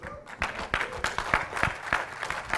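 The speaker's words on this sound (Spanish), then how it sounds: "Si le va a aplaudir al Señor, apláudale con fuerza" A church congregation claps for the Lord during a Spanish-language service with a guest preacher, a sparse run of distinct, fairly close hand claps in an irregular rhythm.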